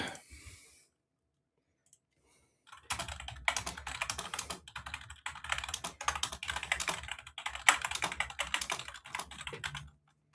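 Rapid, steady clicking of computer keys runs for several seconds after a brief pause, close and fairly loud, with no talking.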